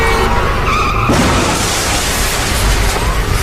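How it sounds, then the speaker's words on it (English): A car crash during a high-speed police pursuit, as a fleeing car plows into a packed sedan at over 60 mph. A loud, noisy tire skid ends in a sudden broadband impact, followed by a rough, sustained roar. "The criminals plow into a packed sedan."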